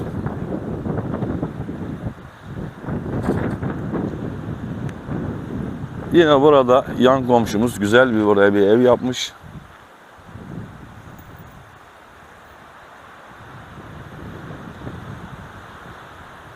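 Wind buffets the microphone in a steady roar while someone speaks outdoors in Turkish at a mountain house in the Kaz Mountains, Edremit, the gusts easing toward the end.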